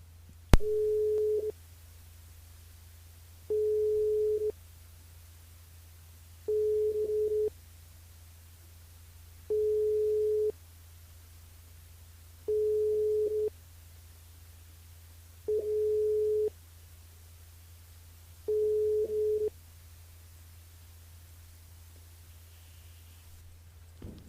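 Busy tone on a telephone line during an unanswered call to a radio game player: seven evenly spaced beeps, each about a second long, repeating steadily over a low constant hum.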